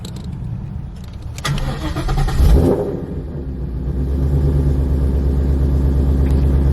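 A 5.0 car engine, freshly fitted with a new O2 sensor, turns over with a brief surge and catches, then settles into a steady, deep idling rumble nearby.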